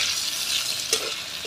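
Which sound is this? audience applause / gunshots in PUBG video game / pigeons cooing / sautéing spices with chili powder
sautéing spices with chili powder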